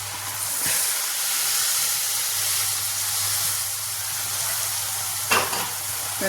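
Beetroot halwa cooks in a pan with a steady close frying hiss, broken near the end by a brief scrape as it is stirred.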